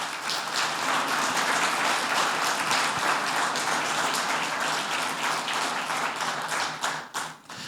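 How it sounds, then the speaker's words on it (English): Audience at a 2024 State of the City address in Sartell breaks into sustained applause, dense overlapping clapping holding steady for several seconds before tapering off near the end. "So give them a round of applause."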